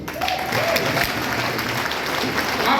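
An audience at a Freemasonry gathering in Nigeria applauds, producing a dense, continuous wash of clapping that holds steady for a few seconds.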